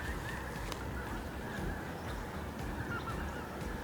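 Geese and other waterfowl honking in a steady, overlapping chorus across open water, fairly faint and distant, with no talking.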